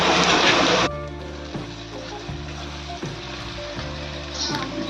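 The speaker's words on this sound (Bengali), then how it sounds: "পেঁয়াজ লাল করে ভাজা হয়ে এসছে" Onions frying red in oil for mutton curry make a bright, dense sizzle that is loud at first and then settles into a softer crackle, while a steady rhythmic mechanical hum runs underneath.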